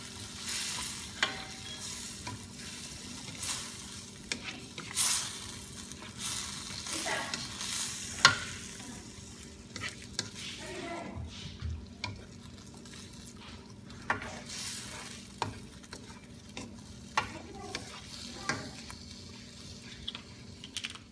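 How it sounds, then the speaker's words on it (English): A sweet and sour sauce with brown sugar, for red snapper, is stirred in a pan, giving quiet, intermittent scraping and soft bubbling with occasional sharper knocks of the utensil and no voices. "Let's give it a stir."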